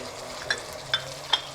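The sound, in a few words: garlic, ginger and tomatoes frying in a pan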